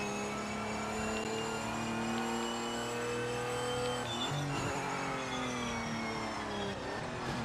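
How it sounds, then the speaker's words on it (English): A race car in the video game Project Motor Racing drones with a continuous engine whine, its pitch holding high and then sliding briefly around the midpoint, steady and moderately loud with no talk. "pushing the brake and I hear the car like still gaining speed"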